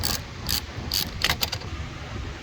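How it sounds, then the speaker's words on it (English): A ratchet works a bolt loose from the battery bracket of a 2017 Nissan Altima, giving a few quick, close bursts of clicking with short pauses in between. "take off this bolt from here, right on this bracket here"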